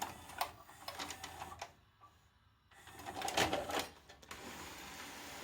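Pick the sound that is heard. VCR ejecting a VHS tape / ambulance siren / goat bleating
VCR ejecting a VHS tape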